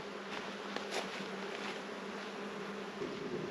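A dense, steady hum of many honeybees buzzing close by an open hive around their queen, a continuous drone with small rises and occasional nearer wingbeats.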